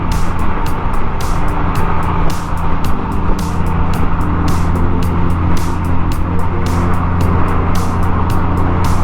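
A 2024 Honda Gold Wing DCT motorcycle cruises steadily over road bumps, its engine droning loud and close as wind rushes past, with repeated short thumps throughout.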